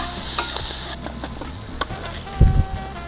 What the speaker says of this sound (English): put in the celery and garlic. There. Let's mix this.